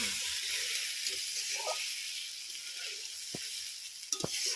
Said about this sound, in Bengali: এবার পরিমাণ মতন জল দেবো।